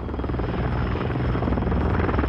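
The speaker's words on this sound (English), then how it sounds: "Not the chopper!" Helicopter in the video game Call of Duty: Modern Warfare 2, a steady loud rotor chop and engine drone throughout, close and continuous with no speech over it.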